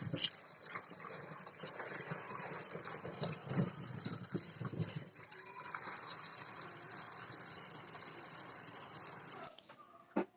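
Gooseberries being washed under running tap water make a steady near gushing splash that runs for about nine seconds, then cuts off abruptly.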